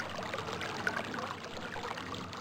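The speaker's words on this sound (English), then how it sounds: "And this fountain noise is our first noise of this area" A fountain in realMYST's Selenitic Age spills steadily into the ocean, making a soft, continuous trickling and pouring wash with no voices.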